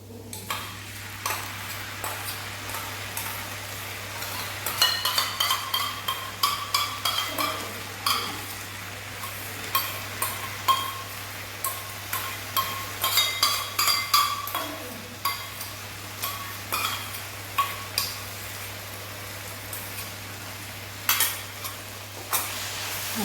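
Chilli chicken stirred in a frying pan with soy, chilli and tomato sauces: a steady sizzle under irregular scraping strokes and light clinks of the spoon against the pan, fairly close, with no talk.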